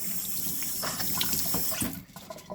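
Food for palm nut soup is washed under a running tap, giving a steady close splash of water that drops away near the end.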